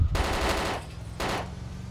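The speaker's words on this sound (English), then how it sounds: "Taking shots from the building," Gunfire in the Arma 2 DayZ video game, with two loud, close bursts of rapid shots separated by a short pause.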